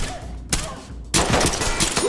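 MP5 fire in Ready or Not: a single sharp shot, then after a short pause a rapid burst of loud, close automatic gunfire that continues to the end.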